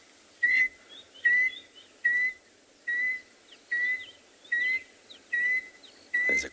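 A bird, one of a male-female pair, gives a contact call: a clear whistled note repeated about nine times at a steady, roughly one-second rhythm, fairly close, over a quiet background.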